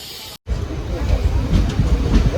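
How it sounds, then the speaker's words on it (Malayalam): A passenger train on the Shoranur-Nilambur rail line pulls away with a loud, steady mechanical rumble that builds after a brief cut, mixed with background voices and crowd babble. "അങ്ങനെ നമ്മുടെ ട്രെയിൻ ആ പാസഞ്ചർ വന്നപ്പോൾ തന്നെ എടുത്തു"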